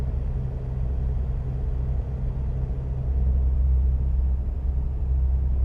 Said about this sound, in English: Hear the tires, they go fast.